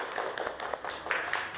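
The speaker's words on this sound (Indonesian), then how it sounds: "Tepuk tangan kelompok 4." Children clap in a primary school classroom, a dense patter of quick hand claps sustained for over a second at moderate distance, with no talking over it.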